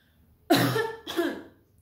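Two sharp, forceful coughs close to the microphone, one right after the other, with no talking.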